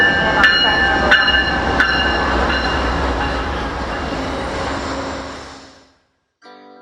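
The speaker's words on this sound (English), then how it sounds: "That is your train that's pulling in on track number 1." Amtrak's California Zephyr, train number 2, pulling in on track 1, a steady broad rail rumble with a few sharp clanks and squeals, close and loud, fading out near the end; faint voices may sit underneath.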